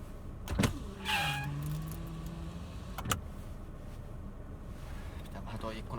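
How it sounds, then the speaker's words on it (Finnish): A car's electric power window whirs open for a couple of seconds, with a few clicks and a thump around it, as someone talks inside the vehicle. "pitää vähän toi ikkunakin laittaa auki"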